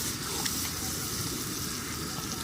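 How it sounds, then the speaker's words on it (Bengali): Spice paste for a mutton curry frying in a pan, giving a steady close-up sizzle and hiss that runs evenly throughout with no pauses. "এবার সেই পেস্টগুলোকে দিয়ে দিলাম, মোটামুটি কম বেশি লাল করে ভেজে তারপর এই পেস্টটাকে মেশানো হলো"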